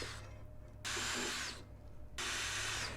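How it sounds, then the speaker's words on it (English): A power drill whirs in two short bursts, spinning up loudly, pausing briefly, then grinding again against metal as it drills out an aluminum rivet head. "drill into the center head, down very close to the metal"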